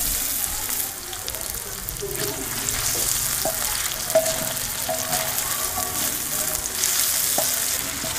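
Potatoes for an Afghani omelette fry in a little oil in a pan, giving a loud, continuous close sizzle. A few faint clinks and scrapes sit under it. No one speaks.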